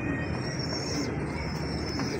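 Teddy pigeons, a fancy domestic breed kept in a loft, cooing softly and steadily against a constant background hum, with low murmuring calls running through the whole stretch.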